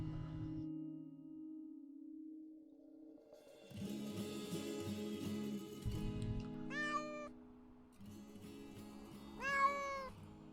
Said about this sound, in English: Yes, I hear you, kitty cat.